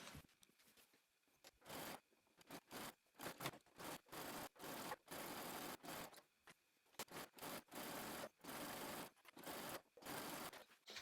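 A sewing machine topstitches the hem of a stretchy skort, whirring in repeated short bursts separated by brief pauses, faint and close with no talk.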